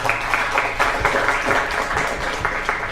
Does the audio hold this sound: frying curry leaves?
no